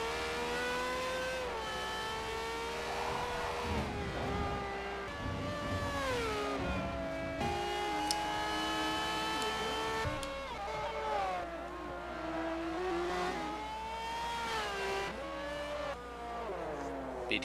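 Formula-style race cars in the Formula Forza 2013 German Grand Prix racing game, engines whining and shifting pitch as they brake and accelerate through a hairpin, several cars heard together at a steady, moderate level.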